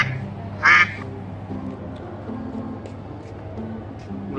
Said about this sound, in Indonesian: Itu bebek lagi